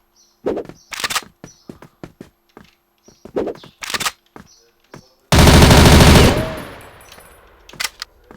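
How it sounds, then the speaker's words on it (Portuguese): Gunfire in a shooter video game with an M4 rifle: a series of sharp single shots and short bursts at an uneven pace, then one long loud burst of automatic fire that fades out, followed by a few more isolated shots. "Os tiros."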